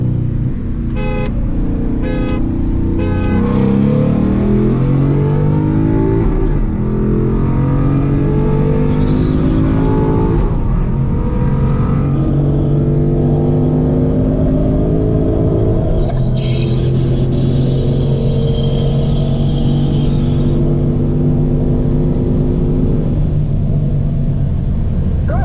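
A Mustang engine drones loudly and steadily, with a few rising revs as the car accelerates hard. Some short tones near the start may be horn toots. No voices are heard.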